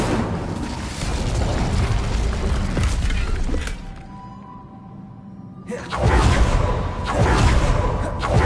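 Incendio fire spell cast in Hogwarts Legacy, a loud whooshing burst of flame that drops away into a quieter lull before another strong roaring blast swells back in.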